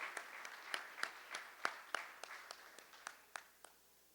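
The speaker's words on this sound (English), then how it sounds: "Let's give her a round of applause as she's come to the" A small audience claps at a Kwanzaa gathering, sparse individual claps ringing out in an uneven rhythm, fairly quiet and close, with no talk during the brief burst.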